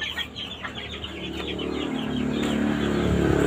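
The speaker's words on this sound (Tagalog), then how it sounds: "Ang dami pong manok diyan." A flock of chickens clucks in a backyard, overlapping soft clucks and calls, close and moderately loud.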